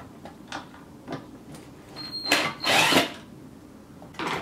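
Screws being backed out of a Land Cruiser side mirror with a power tool, giving short whirring bursts, the longest two close together near the middle and another at the end, with small clicks and handling noises in between.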